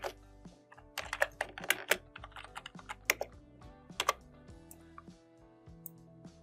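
Someone types on a computer keyboard while writing Python code, a close, clear run of irregular key clicks and taps in quick bursts with short pauses, no voice over them.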